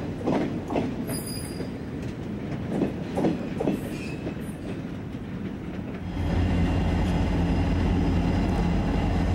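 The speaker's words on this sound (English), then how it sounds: "That's that same train backing up on a different track." A train backs up along a track with rhythmic clacking and faint squeals, then settles into a steady, louder low rumble as it keeps moving.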